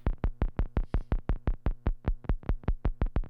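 Minimoog analog synthesizer from 1979 with its filter cutoff modulated by a square-wave oscillator, making a steady, rapid train of sharp pulsing blips, evenly spaced and alone, at moderate volume.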